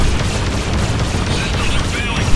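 A battleship blows up in the space-combat game Freelancer, a sustained, loud rumbling blast with crackling debris filling the whole moment, steady and dense with no pauses.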